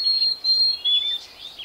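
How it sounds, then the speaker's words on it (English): Chickadee song from the isolated population on tiny Tuckernuck Island, Massachusetts: thin, high, pure whistled notes in short sustained phrases, clear and moderately close over a faint outdoor hiss. "its chickadee population has developed a whole new song"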